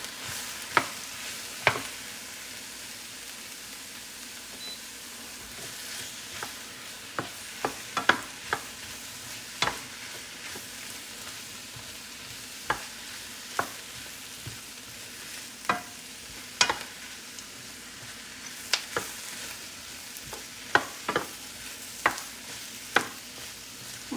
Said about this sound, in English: Cook the mushrooms down a little bit before we add our deglazing of our wine.